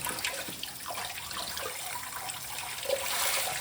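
Running tap water splashes steadily at a soft, even level, with faint clinks as vegetables are rinsed under the stream.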